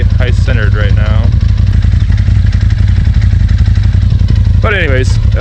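A 2017 Polaris RZR XPT side-by-side engine idles steadily close by, a continuous low rumble with a dense rattling texture that holds unchanged throughout, while a person talks over it at the start and again near the end.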